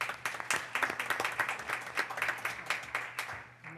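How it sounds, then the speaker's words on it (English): A small audience claps together at a school board meeting, a moderate, steady patter of hand claps with no talk over it, tapering off near the end. "if we could give them another round of applause"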